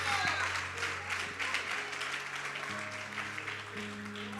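A church congregation applauds in the name of Jesus, a steady wash of clapping under sustained music and a preacher's voice, moderately loud throughout.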